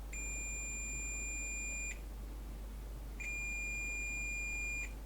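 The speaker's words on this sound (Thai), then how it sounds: "เดี๋ยวผมจะใช้มิเตอร์นะครับผมโดยวัดโดยใช้ในโหมดบัตเซอร์นะ" A multimeter in continuity buzzer mode gives two steady high-pitched electronic beeps, each about two seconds with a short gap between, over a faint low hum, testing car audio wiring.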